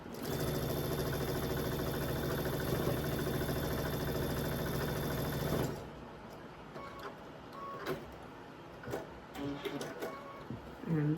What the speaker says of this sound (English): So let's start sewing our basket.